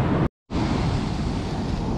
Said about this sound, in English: The waves are super rough out today.